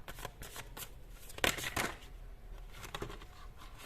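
Tarot cards being shuffled by hand, a rapid close riffling flutter with a louder burst near the middle, then softer repeated shuffles, no talk.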